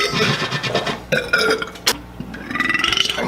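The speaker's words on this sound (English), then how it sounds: "I'm scared to burp because it's not just a burp." A long, loud, rumbling burp drawn out over a few seconds, rough and gurgling, with uneven swells close to the mic.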